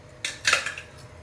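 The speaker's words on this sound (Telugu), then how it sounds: "కడాయి పెట్టి పావిడి ఆయిల్ పోసిన" A metal kadai clanks down onto the stove, followed by a brief bright metallic clatter; short and close, with no talking.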